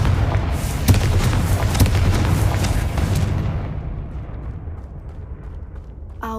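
A Confringo blasting curse explodes in Hogwarts Legacy, a loud booming burst with crackling debris that rolls on for several seconds before fading into a quieter tail.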